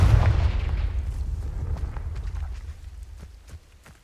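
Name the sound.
Confringo spell explosions in the Hogwarts Legacy video game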